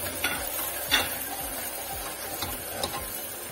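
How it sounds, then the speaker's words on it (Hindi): Onions go into hot oil and sizzle in a pan, a steady faint crackle broken by a few sharper spatters and stirring scrapes, with no voices. "ऑयल में हम प्याज डालेंगे इस तरीके से, हल्की सी प्याज ब्राउन कर लेंगे थोड़ी सी"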